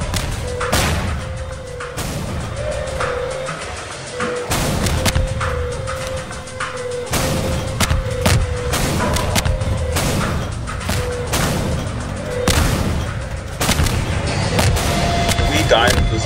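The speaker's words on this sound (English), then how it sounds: "The cannons are dropping them so much." Repeated heavy booms of cannon fire thud in rapid succession, loud and close, over a busy Zombie Master game soundscape with some talking.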